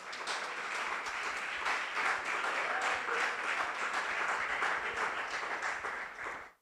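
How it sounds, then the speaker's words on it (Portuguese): Sustained applause from a church congregation at a Portuguese-language worship service, dense steady clapping filling the room for several seconds before cutting off abruptly. "Pode aplaudir Jesus."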